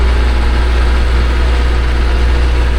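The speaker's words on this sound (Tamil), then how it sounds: "மீன்பிடி படகுன்னு நினைக்கிறேன், போயிட்டுருக்காங்க பாருங்க." A fishing boat's engine on a river near a harbour in Suriname, a loud, steady low-pitched drone that holds constant with no pauses for the whole stretch.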